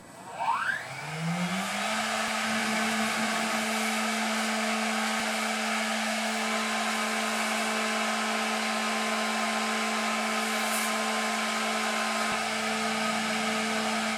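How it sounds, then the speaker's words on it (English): A homemade CNC machine's spindle spins up and bores a piston with a cutting tool, a rising whine that settles into a steady loud hum for the rest of the clip, with no talk. "the new tool can be loaded into the spindle to see if we can achieve a perfectly round piston"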